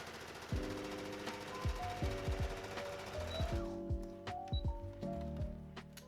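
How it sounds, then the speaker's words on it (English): A sewing machine runs a straight stitch across pinned quilt pieces, short bursts of rapid mechanical chattering separated by brief pauses, fairly close and with no talking. "I'm going to just go ahead and do a straight stitch across them"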